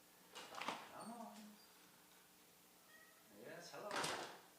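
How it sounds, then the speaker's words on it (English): A cat meows a few times at a distance from behind a door, with soft household noise and a faint door-like sound in a quiet room. "I can hear my cat meowing at the door."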